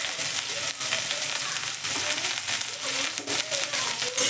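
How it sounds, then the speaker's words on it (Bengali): Cauliflower stalks and radish fry in oil with salt and turmeric for a homestyle chorchori, a dense, continuous close sizzle with faint stirring scrapes running through it. "তেলের মধ্যে কপির ডাঁটা আর মূলোটা দিয়ে দেওয়ার পর আমি এখানে দিয়ে দিচ্ছি পরিমাণ মতো নুন, আর দিচ্ছি পরিমাণ মতো হলুদ।"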